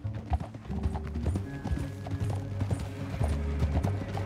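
Horse hooves clip-clopping steadily over ground in Red Dead Redemption 2, with background music and ambient rumble underneath; no talking.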